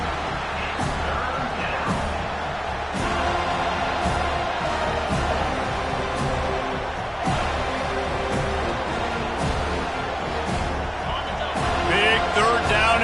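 A football stadium crowd roars in a steady, loud wash of cheering behind the defense, with sharp thuds and shouts throughout and a commentator's voice talking over it.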